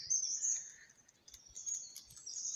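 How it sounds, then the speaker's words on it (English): Several birds sing and chirp in a natural outdoor setting on a calm morning, high bright calls trilling continuously and fairly close, with faint insect-like background texture and no voices. "And listen to the birds"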